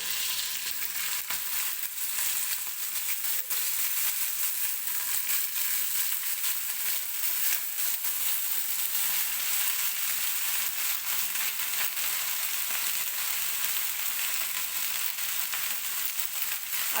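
Spring onion greens sauté in hot oil with garlic, giving a steady, dense sizzle that holds even and close for the whole stretch with no talking.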